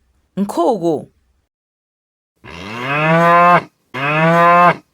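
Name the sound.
cow mooing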